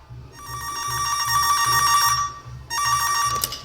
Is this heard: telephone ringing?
yes